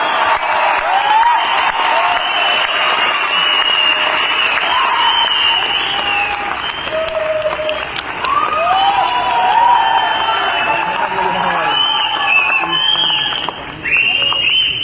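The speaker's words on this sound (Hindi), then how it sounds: "ऐसी तालियां बजनी चाहिए कि पूरा पटना में आवाज करनी चाहिए" Applause from an audience at an AWPL company event in Patna fills the space as a dense, steady wash of clapping. Whistles and shouting voices run over it, and it holds loud for the whole stretch with a brief dip near the end.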